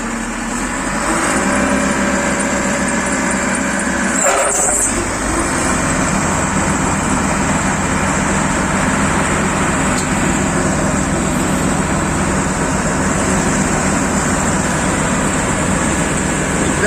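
A John Deere 1052 combine harvester's engine, with a short thump near the start, then a loud, steady, close-up mechanical drone that runs on evenly.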